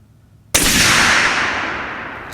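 A single sharp, loud report from a 7mm PRC rifle with a fitted magazine and brand-new barrel cracks out after a brief quiet, followed by a long decaying echo across open ground.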